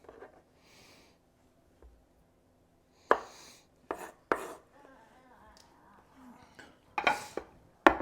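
Tomatoes diced with a knife on a board produce several crisp, irregular chops, some close and sharp, separated by quiet pauses and light rustling handling noises.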